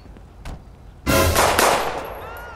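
Gunfire in the video game GTA 5, a sudden loud burst of shots that rings out and slowly decays, preceded by a faint thud, with no talking.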